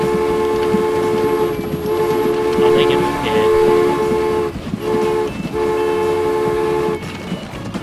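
Game train in Transport Fever rolling past with a steady mechanical drone, sounding a sustained horn tone, fairly loud and close.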